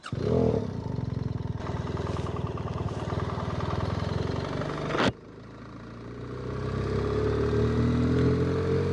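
A motorcycle fitted with Black Widow exhaust headers runs close and loud with a steady throbbing engine note, then drops off sharply and builds again as it pulls away on a mountain road.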